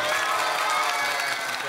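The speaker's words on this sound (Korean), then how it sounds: "박수 한번 해주세요" Dense, steady applause from a television studio audience, with crowd noise and faint cheering mixed in, sustained throughout without clear breaks.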